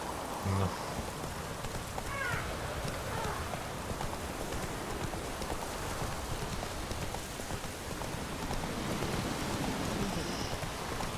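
Steady rain falls across an outdoor scene in the video game The Witcher 3: Wild Hunt, a dense even hiss throughout at moderate level, with a few faint brief game sounds rising briefly above it.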